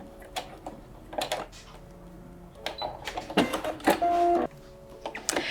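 A sewing machine back tacks on a denim skirt made from jeans, giving short mechanical whirring bursts with brief pauses between them, close and moderately quiet.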